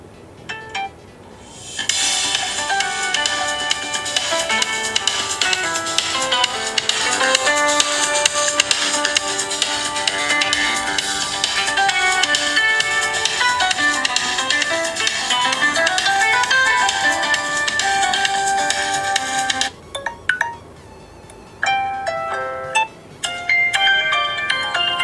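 A Samsung Galaxy S7 plays its incoming-call ringtone, a bright, loud melodic tune that runs continuously for most of the clip, then stops and gives way to a few separate clicks and taps.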